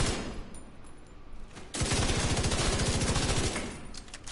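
Burst LMG fire in a video game, a loud rapid stream of closely spaced shots starting abruptly midway and rattling steadily for nearly two seconds over quieter background ambience.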